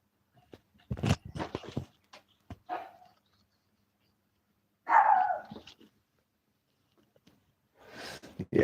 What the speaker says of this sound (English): we guard dogs. Bark at everybody going by.